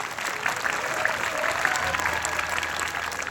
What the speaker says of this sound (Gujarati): જોરદાર એકવાર આ બાળકો માટે તાળીઓ પાડો.